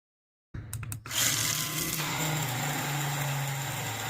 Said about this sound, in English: Place them in a blender with 1 liter of water and blend well